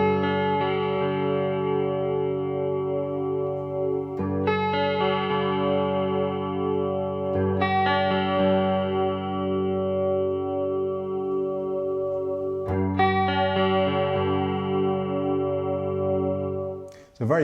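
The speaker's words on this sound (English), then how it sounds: "So very lush, very pretty chorus." A guitar plays through a Roland JC-40 Jazz Chorus amplifier with a lush, thick chorus effect: four strummed chords, each left to ring and shimmer for several seconds.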